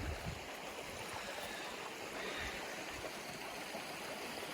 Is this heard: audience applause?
no